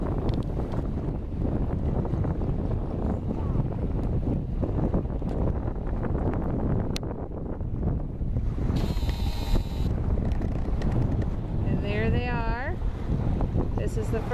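A fully restored Glastron boat runs out on a lake, its engine droning steadily under heavy wind buffeting and water rush, with a voice speaking briefly near the end.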